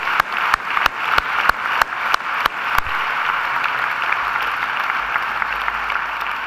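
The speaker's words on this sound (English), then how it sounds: "Please do another great round of applause." An audience at a university graduation ceremony gives a round of applause: a few sharp, evenly spaced claps close by ring out first, then settle into a steady, moderate wash of crowd clapping.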